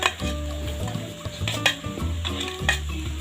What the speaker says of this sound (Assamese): আৰু এইখিনি আকৌ ভালদৰে লৰাই দিছোঁ এনেদৰে।